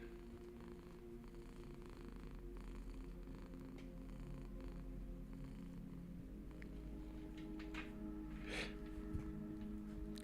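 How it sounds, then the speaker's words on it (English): Soft, steady purring from a cat, a low continuous rumble running throughout with a faint rustle near the end. "She is just purring up a storm."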